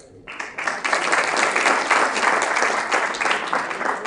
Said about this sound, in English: Let us celebrate their remarkable achievements with a resounding round of applause.